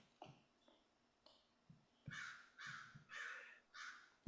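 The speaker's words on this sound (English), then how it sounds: "It's a bird screaming right outside my window." A crow caws outside a window, several harsh, loud calls in a row, the first few short and sparse, then four drawn-out raspy caws at a steady rhythm, close by.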